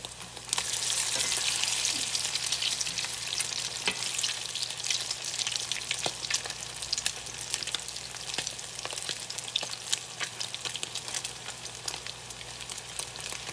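Salmon patties made from canned salmon frying in a pan, a steady close sizzle and crackle running throughout, with occasional faint scrapes and ticks, no talking.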